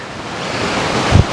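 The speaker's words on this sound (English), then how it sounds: "Another windy day." Steady broadband wind rushes across the microphone, continuous and fairly loud, with a brief gust buffeting near the end.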